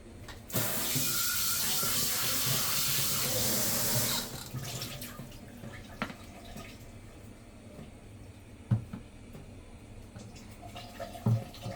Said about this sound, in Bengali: তো প্রথমে আমরা এই ফ্রাইং প্যানটা একটু ধুয়ে নেব।